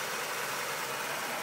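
A 2002 Chevrolet Cavalier's GM 2.2 liter SFI four-cylinder engine idles with the hood open, giving a steady, even hum with no pauses and no voices.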